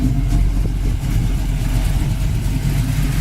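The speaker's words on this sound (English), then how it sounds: "the engine runs very smooth" A 1971 Chevy Chevelle's 350 V8 with high-rise intake and 4-barrel carburetor idles smoothly and close up, a steady low rumble with no talk over it.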